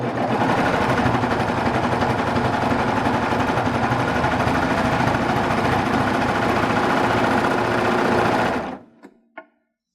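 A Baby Lock serger stitches steadily at full speed, a loud continuous mechanical whir held for about nine seconds before it stops abruptly, followed by a couple of faint clicks.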